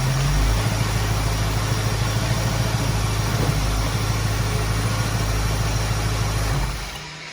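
1973 Ford Mustang convertible engine idling warm with a carburetor, a steady low rumble with a constant hum, holding even before dropping off slightly at the very end.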